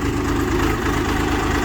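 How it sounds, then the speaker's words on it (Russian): A new Rustrak R-244 Chinese tractor, not yet broken in, idles while moving, giving a steady, close, low diesel chug with a regular throb and no talk. "все это спокойно передвигается на холостых"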